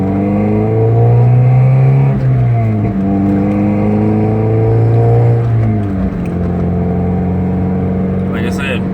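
Mazda Miata MX5 racer, an NA or NB with a 1.6 or 1.8 engine, pulls hard through the gears, its steady engine note climbing and then dropping at each shift, loud and close from start to finish.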